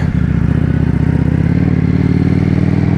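Steady motorcycle engine drone while riding at night, a constant mid-pitched hum with faint mechanical clatter, loud and close throughout, with no talking.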